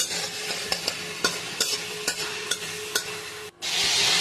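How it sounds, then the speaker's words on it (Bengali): A spatula strikes and scrapes a frying pan in a regular tapping rhythm over a steady close sizzle while pumpkin fries for a spiced vegetarian dish, then the sizzle swells suddenly near the end. "তারপরে একটু খুন্তি দিয়ে নেড়ে চেড়ে ভাজা কুমড়োটা যেটা তুলে রেখেছি সেটা দিয়ে দেবো"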